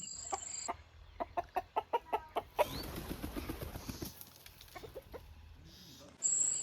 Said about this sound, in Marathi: आंब्याच्या झाडावर कोंबडा गेला होता वरती